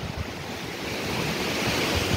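Strong wind blasting across the microphone in a dense, roaring gust that builds slightly over two seconds, loud and close, with no voices.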